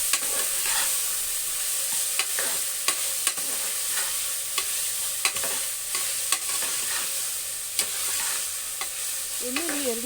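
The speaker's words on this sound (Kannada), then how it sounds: "ಎರಡನ್ನೂ ಎಣ್ಣೆಯಲ್ಲಿ ಚೆನ್ನಾಗಿ ಒಂದು 2 ಮಿನಿಟ್ಸ್ ಬಾಡಿಸ್ಕೊಡಿ" Medium-cut potato and another ingredient fry in oil for a black-eyed pea masala curry, a steady close sizzle broken by regular stirring clicks and scrapes throughout.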